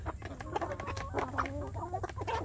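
Free-range village chickens, including roosters, clucking repeatedly in short rhythmic calls close by, several birds overlapping over a steady low background hum.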